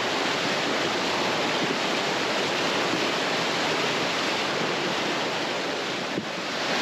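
Swollen, flooding creek rushing in heavy rain, a loud, steady broadband roar of fast water that fills the whole stretch without pause.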